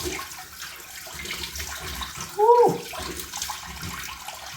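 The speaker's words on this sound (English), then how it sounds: "Cold water rinse." A tap runs steadily for a cold-water rinse of a freshly shaved face, a soft continuous wash of water near a sink, broken midway by a brief voiced exclamation.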